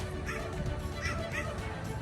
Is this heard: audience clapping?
no